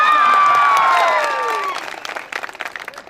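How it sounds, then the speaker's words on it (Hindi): At a Teachers' Day cultural programme, a crowd of students greets a coaching institute director with loud, high cheering and shouts that give way to scattered clapping. "तो एक बार हमारे डायरेक्टर शानवाज सर के लिए जोरदार तालियां दीजिए।"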